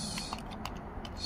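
Quick clicks of a computer keyboard tap out a short entry in an auto repair shop while diagnosing a 2009 Mercedes-Benz ML350, several close keystrokes in a brief burst over a low background hum.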